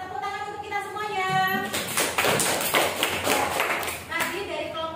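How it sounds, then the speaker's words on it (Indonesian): An audience claps in a burst of applause that swells after a held voice, with dense, close, even clapping over several seconds as people cheer. "Tepuk tangan untuk kita semuanya"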